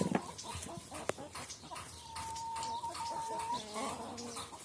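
Chickens cluck and a rooster, likely an Indian game cross, gives a drawn-out call nearby, with scattered bird noises and quiet farmyard background.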